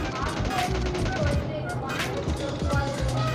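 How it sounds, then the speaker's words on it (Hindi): Gunfire in the battle royale game PUBG Lite, with dense continuous shots and bursts running throughout at steady loudness, mixed with other game noise. "यहाँ पे मेरे को एक बंदे ने मेरे को गोली मारी"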